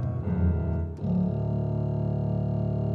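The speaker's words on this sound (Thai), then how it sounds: "ดีนะครับเสียงไวโอลินเชลโล" Violin, cello and contrabass voices on a Yamaha PSR-SX700 keyboard sound a deep, rich bowed chord, briefly break, then hold a steady low sustained tone, warm and close with no voices.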